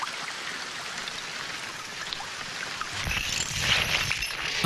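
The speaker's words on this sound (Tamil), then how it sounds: "நல்ல மழை பெய்யுதுல, தூங்கட்டுங்க." Heavy rain pours steadily as a dense broadband hiss, growing louder and rougher in the last seconds as if hitting a surface nearby, with no talk.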